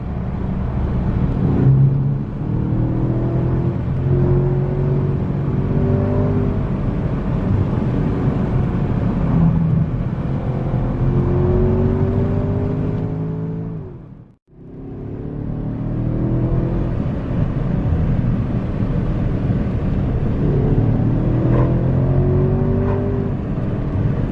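A Porsche Panamera driven briskly to show its handling, its engine droning and rising and falling steadily for over twenty seconds, with a brief near-silent dip partway through before the car pulls again.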